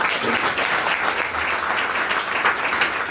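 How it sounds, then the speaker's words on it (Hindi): A crowd applauds steadily, a dense patter of clapping hands filling the space at moderate volume for the whole stretch. "ताली हो जाए भाई"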